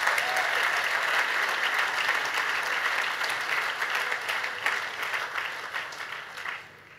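Crowd at a Cancer 200 charity ride event applauding the volunteers, sustained loud clapping that gradually thins and fades toward the end.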